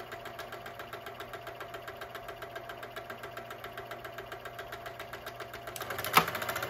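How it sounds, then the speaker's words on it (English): A Canon S2 cine projector runs with a fast, even mechanical clatter as its motor winds film onto the take-up reel, holding steady throughout with a short knock near the end. "So the film's getting wound up in inside the machine to take up reel."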